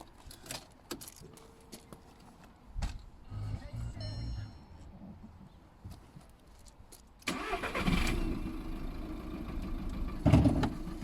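A used car that has not been started for a long time cranks and fires, then a louder, rougher engine note runs on, following keys and handling noises, with someone talking throughout.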